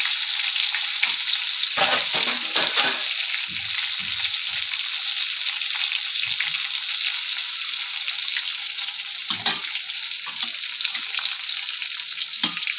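Spice masala for stuffed brinjal frying in hot oil, a steady close sizzle with occasional scraping stirs, no talking.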